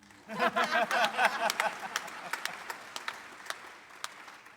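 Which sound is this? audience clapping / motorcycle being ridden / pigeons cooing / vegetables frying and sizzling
audience clapping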